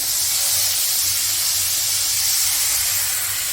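Wine splashed into a hot cast iron pan after searing a butter-basted steak, producing a loud, continuous steaming hiss and sizzle that holds steady throughout.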